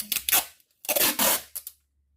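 Adhesive tape is pulled off a roll in a few quick, rasping tears, close up, with short pauses between pulls, to tape a paper cover over a jar of calendula honey.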